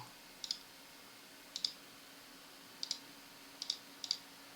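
Typing a short command on a computer keyboard: a handful of sharp, light key clicks, some in quick pairs, spaced across a few seconds over a quiet room hum.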